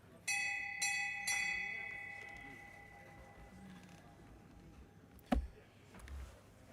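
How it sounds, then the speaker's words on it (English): Hand bell rung by an umpire at a junior lawn bowls match, three clear bright dings in quick succession, each ringing out and fading slowly over an outdoor hush, followed by a brief thump. "umpire's checked his watch and he's heading for the bell."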